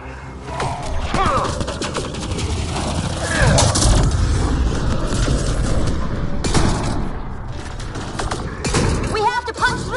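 Rapid gunfire bursts and explosive thuds crackle through a chaotic firefight in the video game Mass Effect Andromeda, with voices calling out over the shooting.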